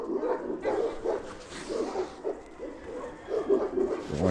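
A dog barks close by in a quick run of short, repeated woofs and yips.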